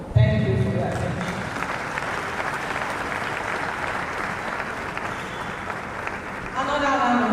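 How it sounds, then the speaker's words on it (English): Sustained applause from a crowd at a higher education event for a Vice Chancellor, a dense even patter of clapping lasting several seconds, with a voice speaking briefly at the start and end. "Another round of applause for our Vice Chancellor."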